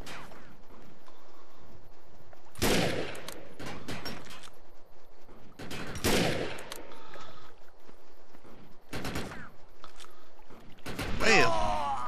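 Heavy-recoil gun firing in the shooter game Defiance, several loud sharp bursts spaced a few seconds apart over a murky ambient background, with a brief quieter stretch between shots.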